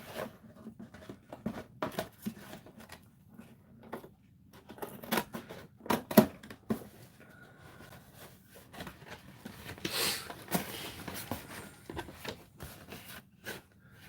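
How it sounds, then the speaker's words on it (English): Scissors snipping through cardboard in irregular bursts of crisp cuts and rustling, quiet and close, with pauses between strokes, during a crafting session. "I love the sound of the scissors cutting into the cardboard"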